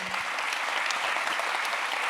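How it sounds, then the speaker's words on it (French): Steady audience applause at an architecture award ceremony, a continuous wash of many hands clapping throughout, with no break. "Et on les applaudit, bravo à eux."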